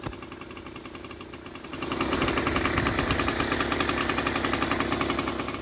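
A 1921 ATCO Standard lawnmower engine runs nearby, first at a softer chug, then louder after about two seconds with a rapid, even, knocking beat that continues to the end.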